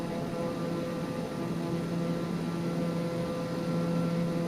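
An airplane flies through a huge storm near Japan in a flight simulator game, giving a steady, loud engine drone with a broad rushing wash and a few sustained hum tones, unbroken throughout with no talking.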